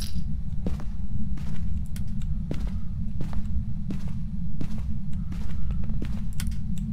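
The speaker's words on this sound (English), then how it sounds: "Yep, I hear you creaking on stairs." Creaking footsteps on stairs from a ghost in the video game Phasmophobia, inside a Ridgeview Road house, heard as a series of sharp, evenly spaced creaks over a loud constant low hum.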